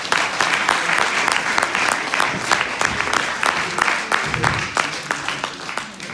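An audience at a stage hypnosis show in Carantec breaks into loud, sustained applause, dense clapping filling the room with scattered crowd noise throughout.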